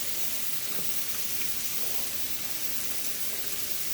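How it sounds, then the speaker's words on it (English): Pasta stirred in a creamy sauce in a pan, a continuous close sizzle and soft scraping hiss with no talking. "now I'm just stirring my pasta. I don't want it to get stuck."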